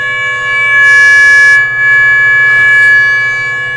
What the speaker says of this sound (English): that's the audio that's coming, being generated out of the TNC and sent through the radio.